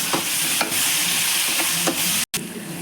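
Onions and tomatoes sauté in hot oil for a Thanjavur-style fish curry, a dense, close sizzle with soft stirring scrapes, steady throughout apart from one very short cut near the end.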